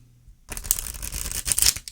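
A new Llewellyn deck of Tarot of the Hidden Realm cards is shuffled by hand, giving a close, crisp burst of riffling and flicking that starts after a short silence and runs for about a second and a half.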